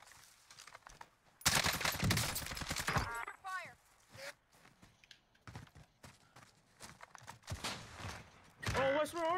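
Rapid bursts of automatic gunfire from an MP5 submachine gun in the shooter game Call of Duty: Cold War, firing in short clustered volleys between pauses, with a voice talking over the action.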